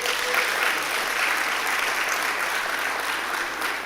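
Audience applauding the Agri-Invest Corporation at an investment forum in Jamaica, steady even clapping from a crowd throughout, moderately loud with no voices.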